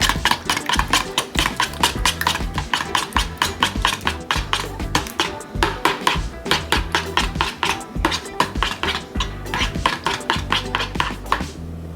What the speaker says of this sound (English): I'm going to kind of stir this up